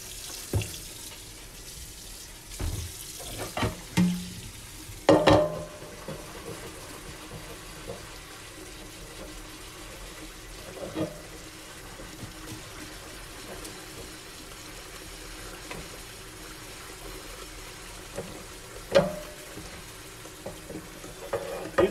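Water runs steadily from a kitchen tap during dishwashing, with occasional clinks and clatters of dishes over the flow.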